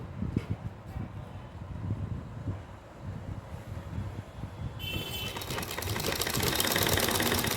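A sewing machine stitches a white satin strip onto a small Laddu Gopal dress, its motor giving a low, rhythmic mechanical whirr that turns louder and hissier in the second half.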